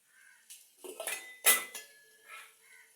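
Jaggery goes into a pan of vegetable curry, a few light metallic clinks and scrapes of spoon against the pan, close and fairly quiet, with one sharper knock in the middle.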